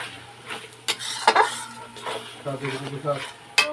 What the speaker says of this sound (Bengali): এখন এই যে পেঁয়াজটা বেটে নিয়েছি পেঁয়াজ আর এর মধ্যে জিরের গুঁড়ো দেওয়া আছে এখন কষিয়ে নেব ভালো করে